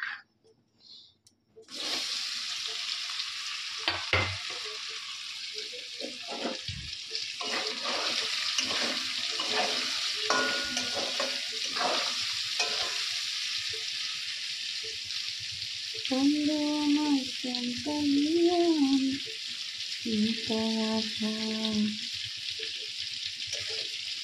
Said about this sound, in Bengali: তো পনিরটা এখন আমি ভাজা ভাজা করে নিই।